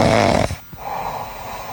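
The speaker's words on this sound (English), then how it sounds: "Someone, stop him snoring." A loud, rasping snore rumbles up close at a preschool annual day performance, then cuts off into a quieter breathy tail.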